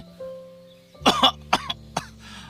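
A few short, sharp coughs, an old man's in a Khmer folk tale, come in a quick cluster and then one more, close and fairly loud over a quiet background with a low steady hum.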